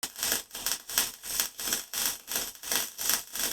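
A wire-feed welder runs with the wire speed set too slow, giving an intermittent, pulsing hiss that surges and drops roughly every half second, close and steady with no voices.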